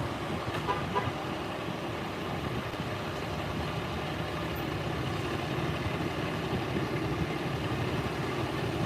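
A Daytona wrecker tow truck's engine idling nearby, a constant low rumbling drone that holds steady throughout with no voices over it.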